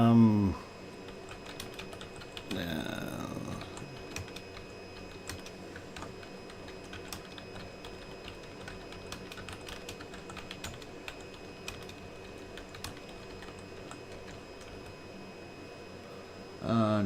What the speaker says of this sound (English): just typing something out here